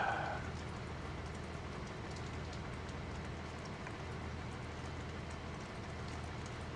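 Steady rainfall in the farming video game Farming Simulator 2013, a constant broadband hiss of falling rain that stays even and moderately loud throughout, with no one talking.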